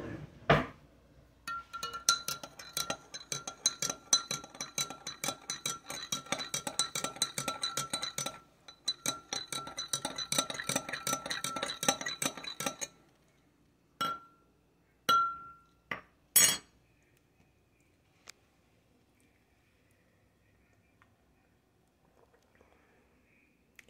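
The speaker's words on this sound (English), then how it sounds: "So now I'm going to stir it up and see how it tastes." A spoon stirring peach mint green tea in a glass, with a steady run of fast, bright clinks against the glass for about twelve seconds, then a few separate taps before quiet.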